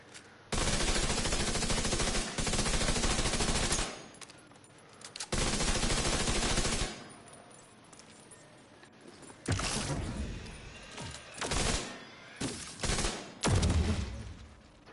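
Rapid bursts of explosive gunfire-like blasts from an explosive build in the video game Division 2. The loud, dense volleys come in several separate bursts, with short quieter gaps between them.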